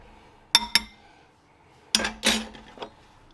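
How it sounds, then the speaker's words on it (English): Fork clinking against a bowl while mashing jalapeno popper filling, a few sharp metallic taps close by, two quick ones then a short cluster of scraping clinks. "Use a fork, and we're going to mash it all together"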